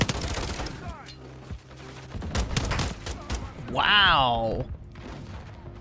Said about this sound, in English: He did, in fact, two-tap me with the pistol.